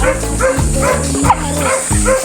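Dogs bark repeatedly at close range, a steady run of loud, rhythmic barks with some higher yips mixed in.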